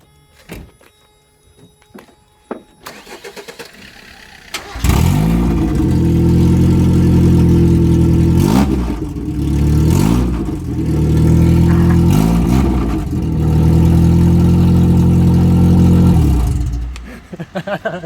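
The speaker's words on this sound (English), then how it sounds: "I've just taken the exhaust off, and obviously you've got to see what it sounds like with no exhaust" A Mazda MX-5 with its exhaust removed bursts into a loud, raw, droning idle after some handling noises, and its pitch swells several times as it is revved before it cuts off.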